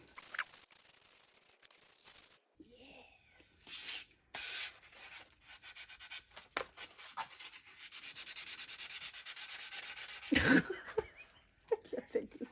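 A wooden paddle being sanded by hand in short, scratchy strokes that come and go, with more sustained rubbing toward the end, alongside light laughter and brief chatter nearby.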